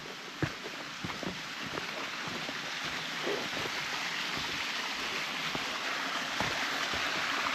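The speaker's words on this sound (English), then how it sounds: "I hear some more waterfalls already" Steady broadband rush of a stream and small waterfalls near Yellow Branch Falls in South Carolina, constant and fairly close, with faint scattered knocks and footstep-like taps on top.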